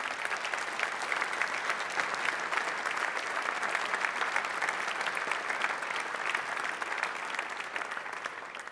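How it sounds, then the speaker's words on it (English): Sustained applause from a large audience at a Maastricht University anniversary ceremony, greeting the nominees for an education prize; steady, dense clapping at an even level for the whole stretch, with no talk over it. "every single nomination deserves a round of applause"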